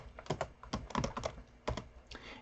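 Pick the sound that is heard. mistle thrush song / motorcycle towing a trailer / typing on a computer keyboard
typing on a computer keyboard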